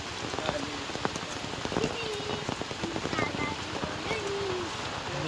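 Heavy monsoon rain pours steadily over rice paddy fields in Konkan, dense drops pattering on hard surfaces nearby, with faint voices now and then in the background.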